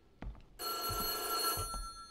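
A telephone rings with a dense, bright bell tone inside the horror game White Day, loud and sustained for over a second after a few low thumps, with no talking.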